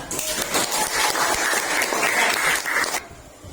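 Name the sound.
applause from a classroom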